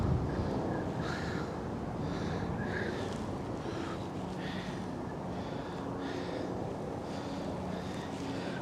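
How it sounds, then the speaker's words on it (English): Steady, rushing wind noise buffets the microphone on the Manhattan Bridge in New York City, with a broad roar and faint higher whistling tones rising and falling as wind whips through the bridge metal, no voices. "you can hear the wind whipping through the metal"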